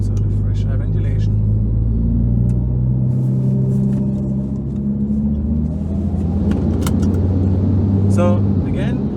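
An Audi TT RS 8J Mk1 with a 2.5 TFSI CEPA steel-block five-cylinder and a TC870XT turbo kit warms up at idle, giving a steady, loud, deep rumble that holds throughout.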